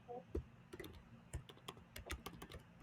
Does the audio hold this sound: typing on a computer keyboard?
yes